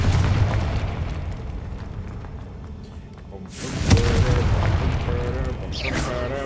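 A Confringo fire spell explodes in Hogwarts Legacy, a sudden loud blast near the middle followed by a sustained fiery rumble and crackle. It sits over ongoing game sound and brief voice.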